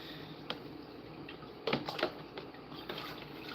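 Salt being stirred into a basin of soaking water with a toothbrush, giving soft intermittent sloshing and light scraping taps up close, a small cluster of splashy strokes in the middle.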